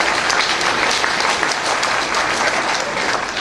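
A roomful of people claps steadily at a recovery meeting in Tujunga, California, a dense, continuous wash of applause with no voices over it.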